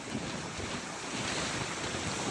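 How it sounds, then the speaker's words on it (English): Coastal wind buffets the microphone in a continuous loud roar with a wash of surf-like noise, steady for the whole moment and with no voices. "I apologise for the wind"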